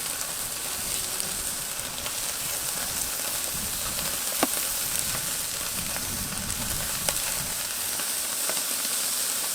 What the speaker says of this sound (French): je vais déposer directement sur un feu très très vif pour avoir une belle saisie